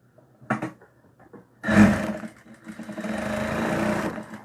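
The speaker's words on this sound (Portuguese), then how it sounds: "Eu vou passar uma costura aqui, ó, bem no cantinho, pra prender esse meu tecido." A sewing machine runs a short seam across the corner of a piece of fabric for a small necessaire box, a brief burst of fast stitching and then a longer steady whirring run, close and loud.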